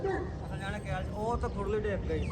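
A Bully dog barks in short yips mixed in with people talking nearby, the barking partly buried under the voices.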